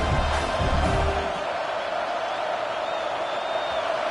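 A college football stadium crowd at a Miami vs. Texas A&M game roars steadily before a fourth-down play, a dense, continuous wash of cheering at full volume throughout.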